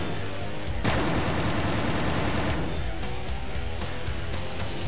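Loud, continuous rapid gunfire from the video game Quake 2 rattles on without a break, with a heavy burst near the start and dense repeated shots throughout.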